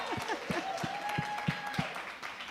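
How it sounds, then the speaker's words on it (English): Audience applause at a feminist panel event, a room of people clapping steadily in a dense patter with a few sharper claps standing out, joined by a sustained tone partway through. "A round of applause."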